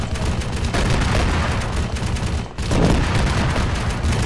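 Dense, loud gunfire and heavy blasts from high-explosive rounds fill a combat scene in the video game Arma 3, a continuous barrage with one brief lull midway before the firing resumes.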